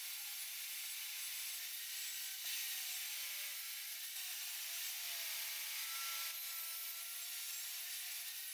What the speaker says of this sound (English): I'll sand off the burn marks